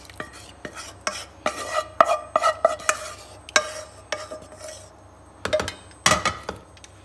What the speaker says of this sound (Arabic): غادي نحاول ندير هذيك لاصوص في المكرونه بحال هكا كلها